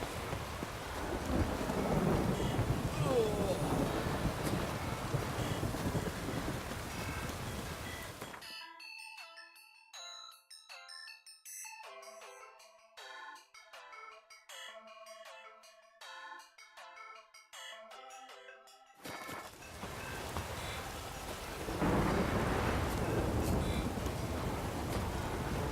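Steady rain with rumbling thunder in The Witcher 3: Wild Hunt fills the first eight seconds, cuts to near silence broken by chiming tones, then the storm returns loudly.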